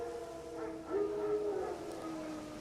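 Wild dogs howling in the video game The Witcher 3, a faint, drawn-out distant howl rising over quiet ambient background.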